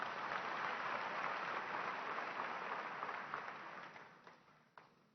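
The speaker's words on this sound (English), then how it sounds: "Let's applaud our institutions." Audience at an ANC thank-you event applauds in a thick, steady round of clapping that gradually fades, ending with a few scattered claps.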